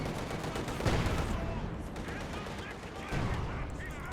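Panzergrenadiers and StuG assault guns open fire in Company of Heroes 2, with steady rattling gunfire and bursts of shots under continuous commentary.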